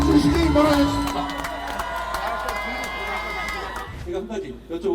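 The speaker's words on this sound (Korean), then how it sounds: "큰 박수 한번 환호해 주시기 바라겠습니다" Crowd cheering and applauding at a Korean political election rally, a loud dense swell of voices and clapping that eases slightly toward the end, with a voice over the crowd.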